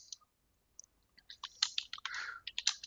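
Keys clatter on a computer keyboard in a quiet room, a few isolated taps giving way to a quick run of close, crisp typing.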